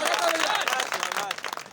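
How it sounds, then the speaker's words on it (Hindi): A village audience claps at a poetry recital, dense applause from the crowd that holds steady and then thins into scattered claps, mixed with voices. "मुझे पूरा सदन ताली बजा के आगे"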